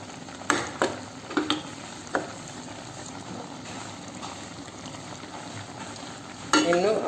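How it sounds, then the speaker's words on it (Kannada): Taro stems cooking in a pan give a steady close sizzle, broken by several sharp spatula clicks and scrapes early on and a louder burst of stirring near the end. "ನೋಡಿ ಕೆಸುವಿನ ದಂಟು ಇವಾಗ ಬೇಯ್ತಾ ಇದೆ"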